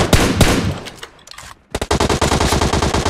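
Automatic gunfire from the video game PUBG Mobile, loud rapid bursts of sharp shots that pause briefly and then resume as a fast rattling volley, close and dominant.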